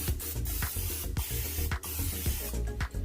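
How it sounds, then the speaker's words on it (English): Cooking oil sprayed onto chicken wings in an air fryer basket, a series of short, close hissing bursts in an uneven rhythm, about a dozen quick pumps with brief gaps between them. "Now we're going to go ahead and give the underbellies a nice spray."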